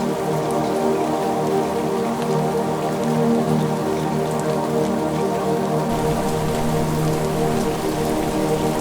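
Steady rain falls on surfaces in a dense, even patter that holds its level throughout, close and constant with no voices.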